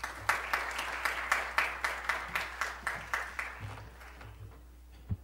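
Audience applause for a speaker at a lecture on constitutional and environmental law, heard as a run of sharp, evenly spaced claps that build and then thin out toward the end, with no talking over it.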